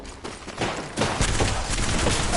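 Gunfire in Apex Legends arenas, loud and sustained, rattling shots packed closely together with a heavier burst about a second in, continuing without a break.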